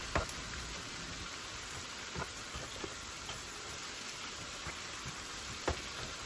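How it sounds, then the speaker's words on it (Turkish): Chopped spinach sizzles in plenty of olive oil with onions in a pan over high heat, a soft continuous crackling hiss punctuated by a few sharp ticks as it is stirred. "ıspanakları hızlı bir şekilde karıştırıyorum."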